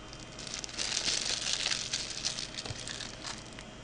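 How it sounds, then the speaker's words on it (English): A plastic bag crinkles and rustles continuously at close range, soft and steady with scattered crackling peaks, during nail wrap application with no voices heard. "Grab a plastic bag."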